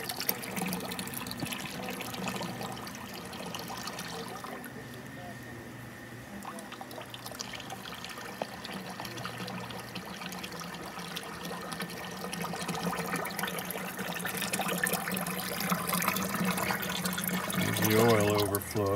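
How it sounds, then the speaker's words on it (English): Brine water from McClintock Well #1, a historic oil well, gushes steadily through a T fitting and out a pipe. The flow is a continuous, close, moderately loud rushing under occasional voices. "Right now the water's coming up through the T and going out that pipe."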